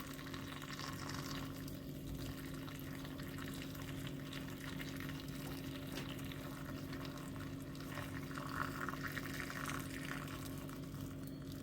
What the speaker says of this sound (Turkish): Şimdi benim burada şöyle kaynar suyum var. Turşumun üzerine döküyorum.